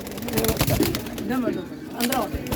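Teddy pigeons coo in soft, repeated low calls over a busy background with voices talking nearby.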